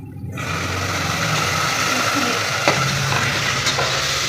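Ginger garlic paste frying and being stirred in hot oil for mutton biryani: a loud, close, continuous sizzle that starts abruptly after a brief pause, with a few faint scraping stirs.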